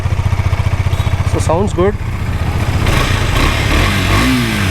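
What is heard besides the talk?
Husqvarna 250 motorcycle exhaust revving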